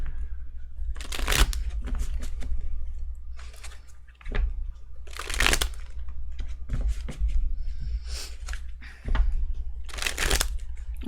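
Tarot cards shuffled by hand in repeated bursts, crisp riffling clatter close to the microphone with short pauses between shuffles.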